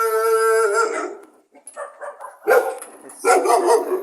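A small dog barks loudly in several sharp, high yelps and a drawn-out howl-like cry, close by and alone.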